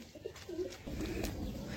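A pigeon coos softly and repeatedly, a short low rolling call close by in a home loft, with no voices over it.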